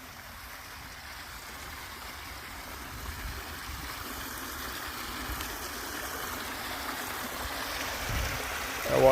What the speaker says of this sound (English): That water's just pouring out of there.